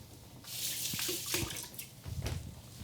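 A kitchen tap runs for a couple of seconds as hands are wetted, a steady close hiss of water with a brief splash and drip as it stops.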